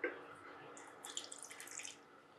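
Water is poured into a bowl for sorghum ambali, opening with a small knock and then a close, bubbling trickle that fades out after about two seconds.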